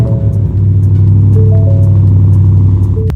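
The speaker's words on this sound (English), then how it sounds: "That V8 sounds amazing." A 2023 Ford Raptor R pickup's V8 engine settles into a deep, loud, steady idle just after a cold start, heard close with a strong low rumble and faint clatter.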